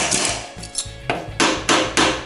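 Special nails hammered into a part of an IZh Jupiter 5 motorcycle with sidecar during a bobber build, giving five or six sharp, close metallic blows that come quicker and louder toward the end.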